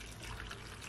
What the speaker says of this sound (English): gonna add at least just over 1/2 cup of water